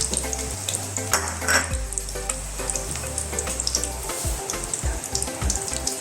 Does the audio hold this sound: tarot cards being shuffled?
no